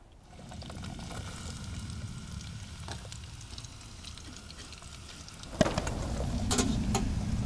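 Bacon and onion fry in a small Trangia camping pot for cabbage soup, a steady soft sizzle and crackle under faint outdoor ambience, with a sharp clink partway through and the frying growing a little louder afterward.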